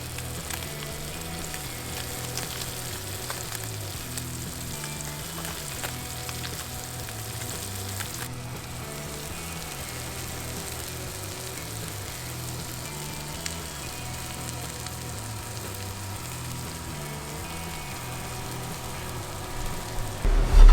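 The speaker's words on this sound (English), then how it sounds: "You want to have it sort of where it's at a nice sizzle like this." Fresh snapper sizzles and crackles steadily in a hot pan, a dense, even frying hiss that continues without pause and without speech.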